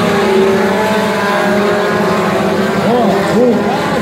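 Race cars in the light category charge around a dirt oval, engines loud and continuous with rising and falling revs as they pass, while an announcer speaks over them.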